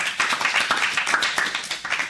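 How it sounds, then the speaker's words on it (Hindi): Steady crowd clapping for a children's patriotic song at a school program in Bikaner, many hands close by at an even, moderately loud level with no talk. "वाह वाह, जोरदार तालियां एक बार फिर से।"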